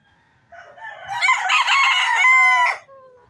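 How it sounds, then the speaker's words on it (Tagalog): A small rooster crows once, a loud, drawn-out cock-a-doodle-doo lasting about two seconds, close to the microphone with little else around it. "Liit na manok."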